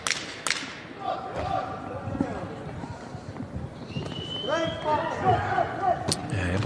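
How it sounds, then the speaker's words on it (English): Punches thud in a women's boxing bout, a quick run of muffled body-shot impacts landing amid the shuffling of feet, with crowd noise and commentary running over them. "Nice body shot combination there."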